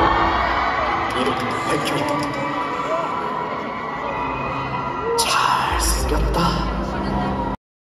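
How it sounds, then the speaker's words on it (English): Crowd of fans at the Baeksang Arts Awards 2024 ceremony screaming and cheering loudly, a sustained high-pitched roar that swells into louder shrieks near the end. "here's the crowd screaming when they showed him"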